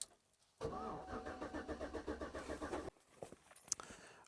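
The engine of a non-running GMC Yukon cranks in a quick rhythmic churn for a little over two seconds without catching, then cuts off, leaving faint clicks and rustles.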